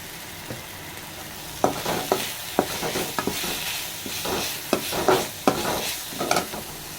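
Ginger garlic paste, turmeric and a pinch of asafoetida sauté in a hot pan for a Tamil-style snake gourd kootu, giving a steady sizzle broken by repeated sharp scrapes and stirs of a spoon against the pan.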